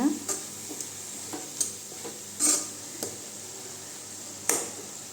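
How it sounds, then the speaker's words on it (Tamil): Carrots for a Tamil carrot poriyal stirred in a frying pan, with a spoon scraping in sparse scattered strokes over a faint, steady sizzle, close and fairly quiet. "கேரட் அடிக்கடி இப்படி கிண்டி விட்டுக்கலாங்க"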